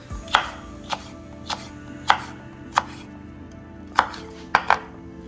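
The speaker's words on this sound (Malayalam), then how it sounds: "അപ്പം നമ്മുടെ പെപ്പർ അരിഞ്ഞു കഴിഞ്ഞു." A knife chops sweet pepper (capsicum) on a cutting board in about nine crisp, separate strikes at an uneven pace, close and clear with no talking.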